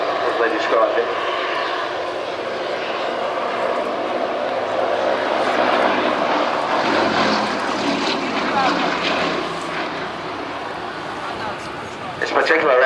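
A 1930s RAF Gloster Gladiator biplane fighter, the last production Gladiator built, is heard at Old Warden as a continuous propeller-engine drone that swells and fades slightly, with someone talking over it.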